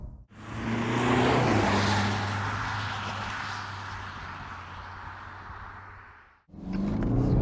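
The engine of a 2021 BMW 420d (G22 4 Series) drones steadily while driving, swelling in a smooth throaty rush before easing off, with a short dip and a fresh surge at the end.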